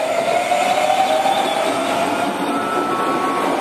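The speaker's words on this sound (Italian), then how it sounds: "il 757 è un convoglio con 6 carrozze, praticamente sono 2 treni insieme" A six-carriage passenger train, two trainsets coupled together, rumbles through a station on the S13 suburban line with a loud, steady roar and a faint high wheel squeal throughout.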